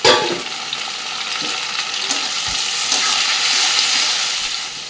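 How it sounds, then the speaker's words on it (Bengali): Chopped onion and a large cut tomato hit hot oil with cumin seeds in a pan, giving a steady, loud sizzle and hiss that goes on without pause. "পেঁয়াজ কুচি, একটা বড় সাইজের টমেটো কেটে রেখেছি, সেটা দিয়ে দিলাম।"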